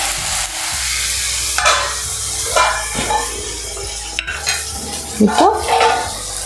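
Vegetables sauté in a pan for a Tamil dry fish curry, a continuous sizzle broken by repeated scraping strokes of a spoon and clinks against the metal, close and fairly loud. A single spoken word comes briefly near the start.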